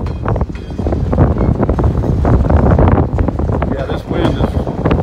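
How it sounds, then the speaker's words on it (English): Strong wind at a railroad spur buffets the microphone in a dense, continuous rumble and rush, loud and close throughout, with a brief lull around the fourth second. "this wind is, man, bad"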